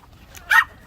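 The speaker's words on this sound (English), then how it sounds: "Uh-oh, the dog wants to chase them." A single short, sharp dog bark or yip up close, from a dog eager to chase birds near a chicken pen, with quiet background noise.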